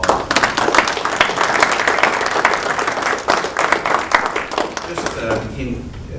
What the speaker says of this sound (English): I think our panel deserves a round of applause